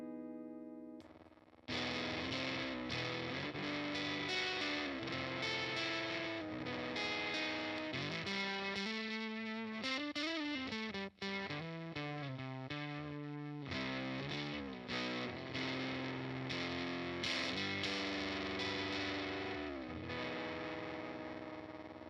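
An electric guitar played continuously through a Keeley Fuzz Bender pedal, thick and saturated, riffing and bending notes for a long stretch with no talking.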